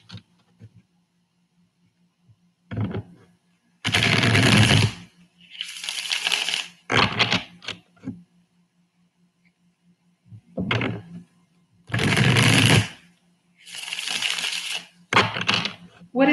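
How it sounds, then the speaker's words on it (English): Tarot cards being shuffled in bursts, several separate riffling and shuffling passes with pauses between them, fairly close and clear, with a faint steady hum underneath. "I'm going to go ahead and start shuffling for you."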